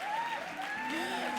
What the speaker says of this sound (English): Please put a warm applause together for Maggie Hsu.